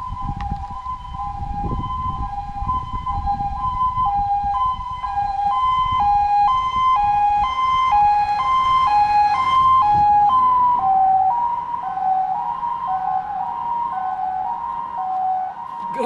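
An ambulance siren wails loud and near, its two tones alternating in a steady pattern, then the pitch drops as it goes past, with low traffic rumble underneath.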